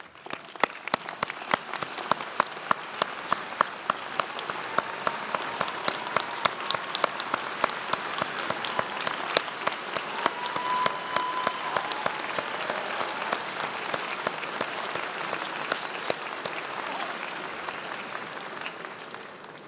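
A commencement audience at New York Law School applauds its prize-winning students: dense, sustained clapping from a large crowd, steady and fairly loud for about twenty seconds before easing slightly at the end.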